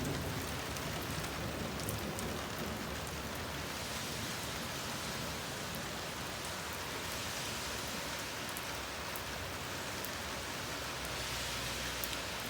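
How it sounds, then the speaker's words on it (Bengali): Steady rain falls continuously on outdoor surfaces, a dense even hiss with scattered drops, heard alone with no voices during a spring downpour. "এখানে বৃষ্টি হয়, ঠান্ডা বাড়ে।"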